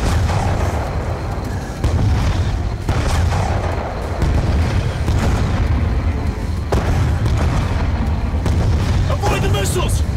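Missiles exploding around the player in Call of Duty: Black Ops II, a steady roar of booms and blasts under heavy combat noise, loud and continuous, with a voice shouting over the din.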